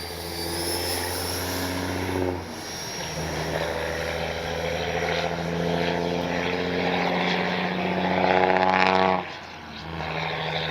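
A HobbyKing FlyCat V2 RC jet passes in flight with a steady droning engine tone that shifts in pitch as it moves, swelling louder near the end before easing off, with wind noise throughout.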